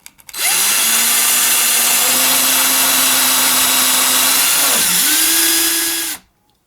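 A loud power drill whines continuously for several seconds, pitch dipping briefly as the bit bites into a wooden board, then cutting off abruptly.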